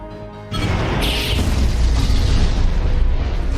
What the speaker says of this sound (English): Detonation in 5, 4, 3, 2, 1, 0.